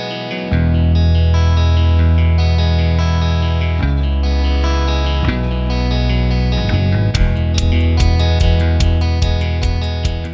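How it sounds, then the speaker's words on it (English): A sustained, effects-laden punk rock electric guitar rings out loud with a wash of reverb, chords held and changing, then bright rhythmic accents enter near the end. "Let's listen to the opening guitar because I want to do some stuff with that."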